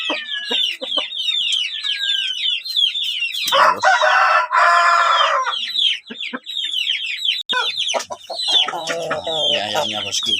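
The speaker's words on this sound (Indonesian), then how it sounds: "Ini ayamnya bosku," Backyard chickens suffering from the respiratory snoring illness ayam ngorok, heard as dense clucking and crowing from several birds, with a louder harsh burst in the middle and rattly calls near the end.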